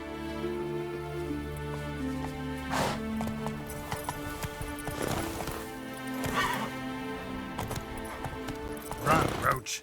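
Geralt's horse Roach from The Witcher 3 gallops with steady clip-clopping hooves and a whinny, set against a constant droning game music bed.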